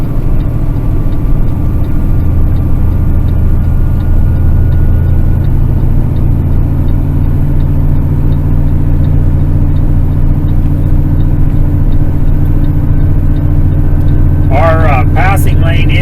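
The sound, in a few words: loaded truck driving uphill on a remote Utah road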